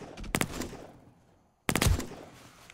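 Two bursts of rapid MP5 gunfire in the video game 7 Days to Die, each a short volley of loud shots separated by a quiet gap of more than a second.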